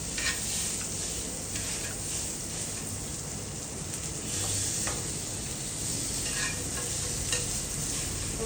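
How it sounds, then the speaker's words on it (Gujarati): A Raja Rani paratha roasts on a hot tava with butter, giving a steady close sizzle with soft crackles and occasional scraping stirs throughout, and no one speaking. "તવા પર અને એના પર થોડું પૂરમ અને આપણે એના બરાબર શેકી લઈશું"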